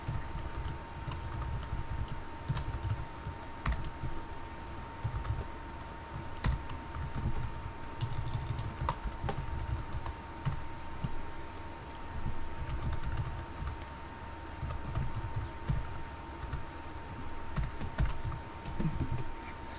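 Rapid clicking keystrokes as game code is typed on a computer keyboard, irregular bursts of close, light taps running continuously over a low background hum, no speech.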